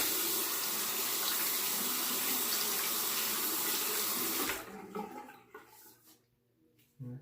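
A bathroom tap runs steadily to rinse a razor during a shave, a loud close rush of water that cuts off abruptly partway through, leaving faint drips and handling noises.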